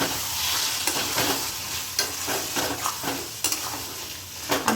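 Puishak chochori (Malabar spinach stir-fry) being stirred in a pan with a little raw mustard oil added, a steady sizzle broken by several sharp scraping strokes of the spoon at irregular intervals, close up with no talking.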